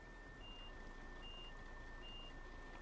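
Reversing beeper on a Volvo G7 1800 DD 8x2 bus in Euro Truck Simulator 2, sounding a regular series of steady electronic beeps over a low engine rumble.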